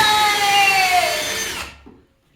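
A power drill whines loud and close while assembling LP SmartSide window trim, one continuous motor note for under two seconds that winds down in pitch before cutting off into quiet.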